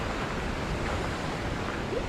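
Rough ocean waves crashing on the rocky Maine coast at Two Lights, a continuous loud roar of surf with wind noise and no talk.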